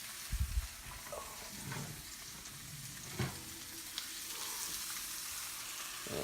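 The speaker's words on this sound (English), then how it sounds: "Don't mind the background noise. That's the steak." Steak sizzling in a pan, a faint steady frying hiss in the background with a few soft clatters and knocks over it.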